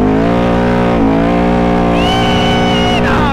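A loud truck engine revs hard up close, its droning pitch climbing and holding with a strong harmonic whine, then shifting as the throttle changes.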